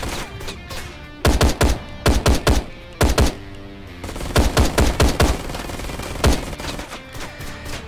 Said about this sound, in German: Oh, Gatling Gun.